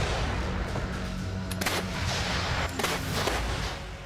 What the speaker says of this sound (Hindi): रूसी तोप 203 mm के परमाणु बम से भरे गोले दाग सकती है।